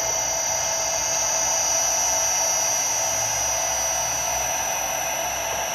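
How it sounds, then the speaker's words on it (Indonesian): A small electric motor spins at its maximum set speed, giving a steady, high-pitched whine with a constant hiss and no pauses. "Oke, motornya udah mulai nyala."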